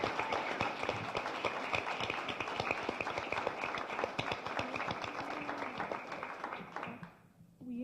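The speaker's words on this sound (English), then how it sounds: "one last big round of applause for all of our wonderful speakers" An audience gives a final big round of applause for the speakers at a Middle Women Project event, with steady, dense clapping that fades out near the end, plus some background voices.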